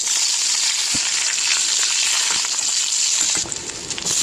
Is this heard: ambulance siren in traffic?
no